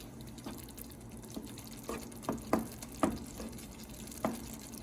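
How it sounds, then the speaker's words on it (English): Sauce in a pot bubbles on the stove, making soft, irregular pops and blips over a low simmering hiss, close by and fairly quiet. "it has been bubbling away for about 5 to 8 minutes"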